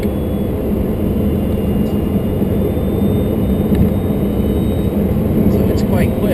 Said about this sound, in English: You can just kind of hold it there for your maximum acceleration under electric.